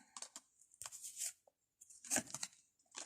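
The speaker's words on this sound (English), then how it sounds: "you just heard me shuffle the cards" Tarot cards shuffled by hand in two short bursts of papery riffling and rustling, close and fairly crisp, separated by a brief pause.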